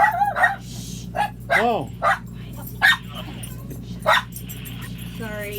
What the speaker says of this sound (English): the dogs always get really excited